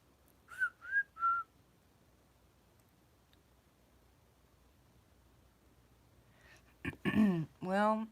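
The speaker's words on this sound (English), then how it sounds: "You guys didn't hear the whistle, did you?" Three short rising whistles ring out clearly near the start, followed by quiet, then a voice speaks briefly at the end.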